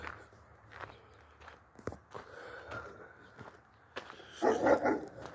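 A dog barks in a short burst of yaps near the end, close by in a rural yard with camels and sheep, over footsteps and scattered handling noises.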